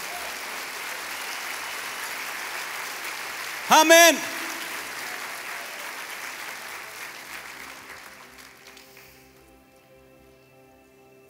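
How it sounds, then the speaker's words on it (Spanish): A church congregation applauds with steady, broadband clapping that runs under a voice, swells briefly in the middle and then gradually fades away. "Dale un aplauso fuerte al Señor."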